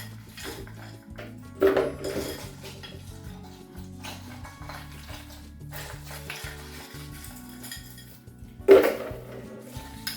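Ice is added to a glass for a Ferrero Rocher milkshake, heard as two sharp clattering knocks several seconds apart with lighter clinks and rattles scattered between them, close and fairly clear.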